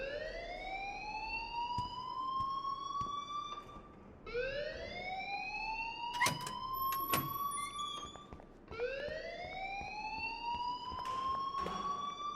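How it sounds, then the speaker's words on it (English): Rising and falling siren-like alarm wails in the Life is Strange Remastered video game, three long sweeping cycles that climb in pitch and repeat loudly and steadily, with brief sharp clicks overlaid. "please turn off that alarm since that's your job"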